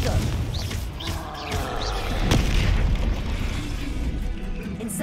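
Confringo blasting spell explosions in the video game Hogwarts Legacy, heavy booming blasts and crackling bursts layered in a loud, continuous rumble of combat noise.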